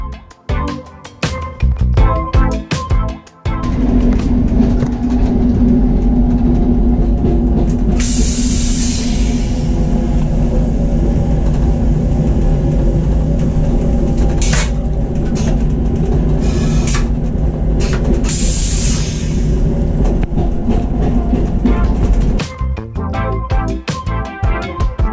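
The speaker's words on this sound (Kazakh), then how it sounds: "Мына пойыз 230 бен жүреді ғой." A new high-speed passenger train runs at about 230 km/h, heard from inside as a loud, steady rumble and rush with brief hissing swells, bracketed by clattering bursts at the start and end.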